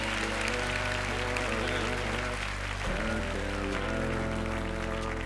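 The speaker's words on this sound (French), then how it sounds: "Applaudissez Louis s'il vous plaît." A comedy show audience claps loudly and continuously for a man called up on stage, the applause blending with a sustained musical tone underneath.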